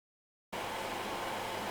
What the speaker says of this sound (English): I do have a fan on, so you might be able to hear it in the background.